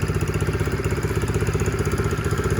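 A small Taotao 50cc engine idles nearby with a fast, even putter, its regular pulsing beat steady and buzzy throughout with no voices.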